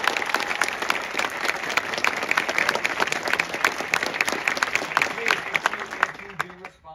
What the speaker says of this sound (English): Let's have a round of applause here.